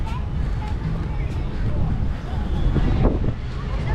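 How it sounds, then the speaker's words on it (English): Breezy wind on an overcast day in Clearwater, Florida, steady buffeting rumble across the microphone with faint background voices mixed in. "It's breezy too."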